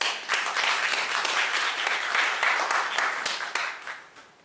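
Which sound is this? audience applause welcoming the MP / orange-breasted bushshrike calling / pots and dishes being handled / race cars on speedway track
audience applause welcoming the MP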